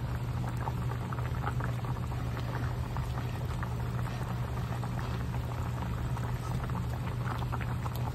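Patatim pork hock boiling in a pot, a steady close bubbling and pattering simmer with a low hum underneath, continuous and unbroken with no talking.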